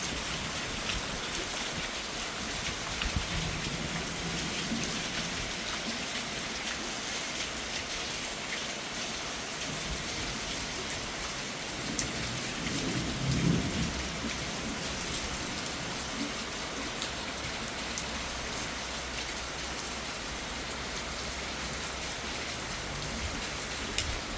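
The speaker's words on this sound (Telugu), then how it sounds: "పెద్ద పెద్ద ఉరుములు ఉరుముతున్నాయి." Steady rain pours down continuously, with a faint low rumble of thunder rolling underneath partway through.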